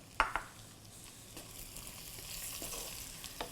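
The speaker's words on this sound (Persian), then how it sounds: "یه کمی تفت میدم" Broad beans sauté in a pan with turmeric, dill, salt and pepper for Iranian baghali ghatogh, a soft, faint sizzle under a couple of sharp utensil clicks at the start.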